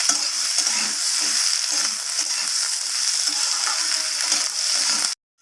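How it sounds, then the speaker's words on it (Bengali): Onions, potatoes and pointed gourd sizzle steadily in a frying pan while being stirred for a prawn and bitter gourd dish, with dense frying crackle and occasional utensil scrapes throughout, then cutting off abruptly at the end. "আমি ভাজা ভাজা করে নেব"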